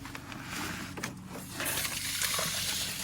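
A garden hose runs water into a sump pump pit in a crawl space, a steady close rushing and splashing that grows louder and brighter partway through, with no talk.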